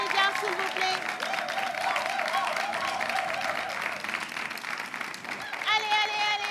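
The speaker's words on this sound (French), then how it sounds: "On applaudit pour les candidats." A studio audience at a French game show applauds the contestants with steady, sustained clapping, mixed with whoops and music, while voices call out over it.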